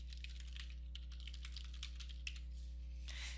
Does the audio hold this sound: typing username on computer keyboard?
yes